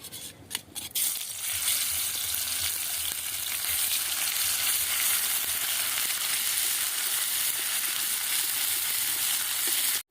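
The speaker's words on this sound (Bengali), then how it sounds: "প্রথমে আমি এই বাটা মশলাগুলো দিয়ে কষিয়ে নেব।" A ground spice paste of chilli, garam masala, cumin and garlic fries in hot oil for an eggplant curry, giving a continuous close sizzle after a few quick clinks at the start.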